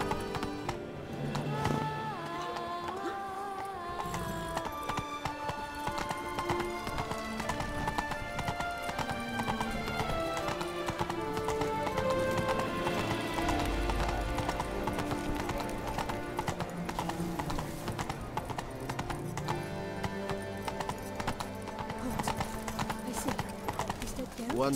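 A horse gallops in The Witcher 3: Blood and Wine, its hoofbeats a continuous rapid clip-clop over a layered game music score that runs the full length.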